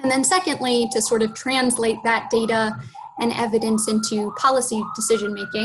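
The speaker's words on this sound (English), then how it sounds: "Very sorry about the siren in the background, if you can hear that." An emergency siren wails faintly in the background, its tone rising and falling behind someone talking steadily in the foreground.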